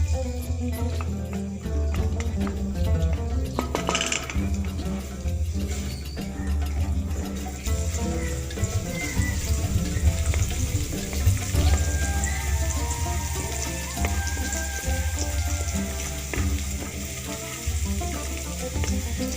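Chopped garlic frying in a little oil in a wok, giving a steady, close crackling sizzle that hisses throughout with faint stirring clinks.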